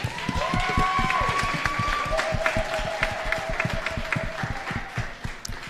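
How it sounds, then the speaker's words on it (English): Audience clapping for delegates on stage at a students' union election debate, a steady sustained round of applause lasting several seconds with tonal sounds over it. "If you want to give them a round of applause."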